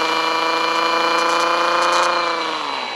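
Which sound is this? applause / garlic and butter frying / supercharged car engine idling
supercharged car engine idling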